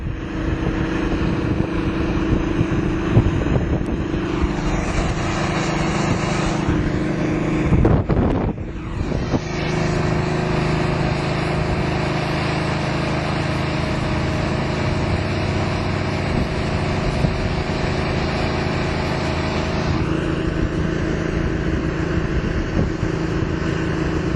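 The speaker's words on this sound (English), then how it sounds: "As the smoke blows on by with the heavy wind today." Heavy wind buffets the microphone at an outdoor classic muscle car show, a steady loud roar with a brief dip partway through and no talking.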